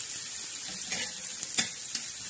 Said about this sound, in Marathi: तर आता आपला कांदा हा छान असा भाजून घेणार आहोत